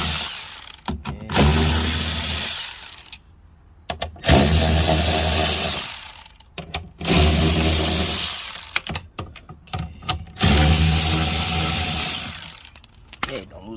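A power tool backs 10 mm screws out of a car door speaker mount on an Infiniti G35/G37/Q40, four loud ratcheting whirs each lasting a couple of seconds, separated by brief pauses and small clicks.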